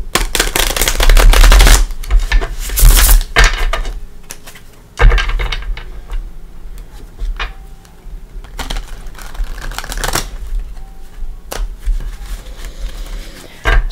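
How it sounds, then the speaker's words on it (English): Crisp, riffling tarot card shuffles in quick bursts, loudest at the start, then lighter flicks and taps scattered through a quiet room. "Let's bring in the Luminous Tarot. We'll give her a shuffle."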